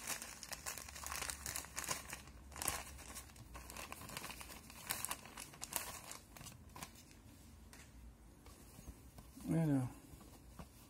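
A collector's box gift bag is opened up close, with crinkling and rustling of packaging in short bursts through the clip and a louder tearing rustle near the end, while people speak French over it.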